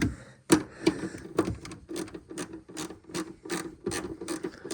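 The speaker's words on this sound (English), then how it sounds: "Ratchet it down." A hand ratchet cranks down on a bolt holding a 3D-printed oil catch can holder in an MR2 Turbo engine bay, giving close, crisp bursts of clicking in quick, uneven strokes with short pauses between pulls.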